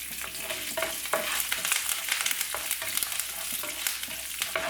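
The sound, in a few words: chana dal, urad dal and curry leaves roasting in pan, stirred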